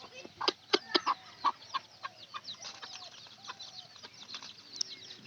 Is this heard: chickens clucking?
yes